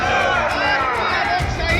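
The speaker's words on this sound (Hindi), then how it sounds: "जहां भारी भीड़ प्रदर्शन कर रही है" Large crowd of protesters at a demonstration in Hingoli, Maharashtra, a dense roar of many shouting voices and chanting, loud and continuous, with rhythmic pulses of cries rising over the din.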